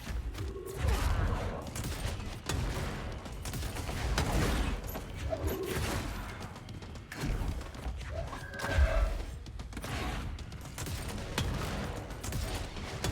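Explosions strike a boss in Control on PS5 amid continuous combat noise, with repeated heavy thumps and crashing bursts over a rumbling background.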